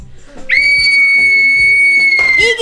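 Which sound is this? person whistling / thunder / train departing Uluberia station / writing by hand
person whistling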